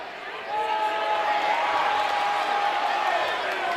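A college volleyball crowd at an NCAA Division III match between Hope and Calvin lets out a sustained, loud murmur of disapproval at an official's call, a steady wash of many voices lasting several seconds.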